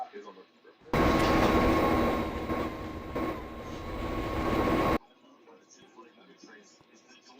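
Video game train roaring through a tunnel: a loud sustained rumble with a steady whine lasting about four seconds, then cutting off abruptly to quieter background noise.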